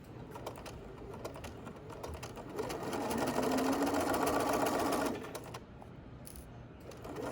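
A sewing machine stitches down a patch pocket in steady rapid bursts, running continuously at close range and growing louder through the middle before easing back, with no voices.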